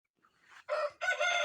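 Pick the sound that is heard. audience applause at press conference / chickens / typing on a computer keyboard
chickens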